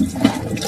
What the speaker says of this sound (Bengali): বালিটাকে আমি ভালো করে ধুয়ে নিচ্ছি।